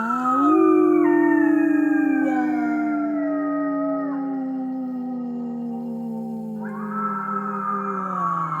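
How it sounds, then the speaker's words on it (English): A dog that joined a coyote pack lets out a long, loud, sustained howl with wavering, sliding pitch, close by and without talk, tapering gradually over several seconds. "sometimes at night, as the moon rises, he'll howl"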